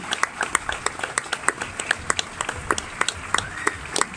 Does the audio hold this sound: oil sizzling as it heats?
no